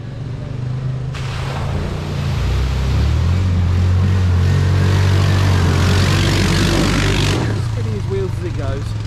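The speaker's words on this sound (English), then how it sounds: "Spinning his wheels as it goes." A quad bike revs hard while crossing a ford, its droning engine joined by a loud rushing splash of spinning wheels throwing water for several seconds before the spray cuts off and the motor continues.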